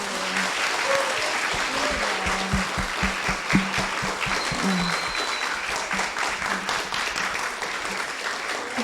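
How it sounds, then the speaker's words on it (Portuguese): An audience at a spiritism course lecture breaks into steady, sustained applause, a dense wash of many hands clapping together for several seconds, filling the room at close range. "Por que correu dos aplausos, mulher?"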